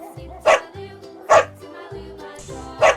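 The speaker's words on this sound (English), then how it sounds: "D for dog D for dog. Dog." A dog barks in three loud, evenly spaced sharp barks, close up, with low-pitched tones in the gaps between them and no talking.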